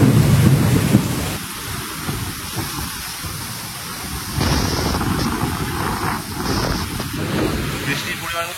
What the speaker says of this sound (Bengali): আধা ঘন্টা উপরে হয়ে গেল কনস্ট্যান্ট ভালো বৃষ্টি হচ্ছে।